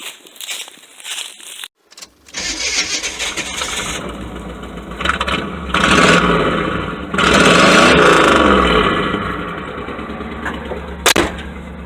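A K5 truck engine with muffler and catalytic converter cut out cranks, catches, and settles into a loud, rough, raspy idle, revving up once before easing back down.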